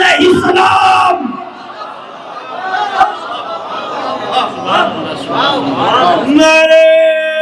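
Large crowd at a Shia religious gathering in Meerut chanting religious slogans in loud unison bursts, with a leader's call and a roaring collective response, echoing in a big space.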